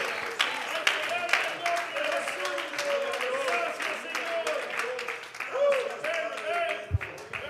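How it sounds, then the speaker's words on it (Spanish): A church congregation gives sustained applause during a morning worship service, with many hands clapping in a sharp, irregular rhythm. Voices rise and cheer underneath, and a loud thump sounds near the end. "Un aplauso más lindo y una alabanza más profunda al libertador"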